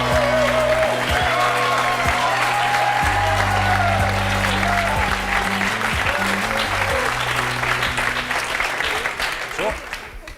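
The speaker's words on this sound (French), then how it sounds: "Je vous demande de les applaudir." A TV talk-show studio audience applauds as two guests arrive on set, a loud, dense and steady wall of clapping over a low tonal bed that eases slightly toward the end.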